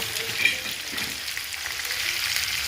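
Washed, deboned dry fish with its skin left on sizzles steadily in a hot pan while being stirred, a continuous close frying crackle with faint scraping and no voices.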